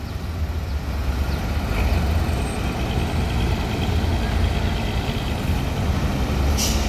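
Two intercity buses, an ANS bus bound for Medan and a Gumarang Jaya bus from Padang, rumble past with heavy low engine roar, steady and loud throughout, with a faint hiss of air near the end.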